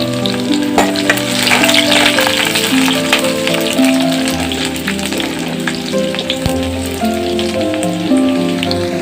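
Chopped onion and garlic fry in hot oil in a wok, giving a steady, loud sizzle that runs throughout with music playing alongside.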